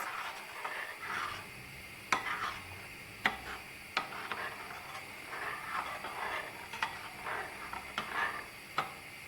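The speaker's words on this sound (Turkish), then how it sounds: "çorbamızı karıştırarak ilave edebiliriz" Soup of vegetables and vermicelli being stirred in a pot over low heat, with soft continuous scraping and a few sharp taps of the utensil against the pot, fairly quiet and without talk.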